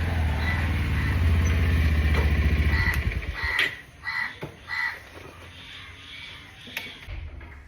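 Crows cawing near a village house where rice is set out for them, several harsh calls over a loud low rumble of traffic or an engine in the first seconds, then scattered caws against quieter background.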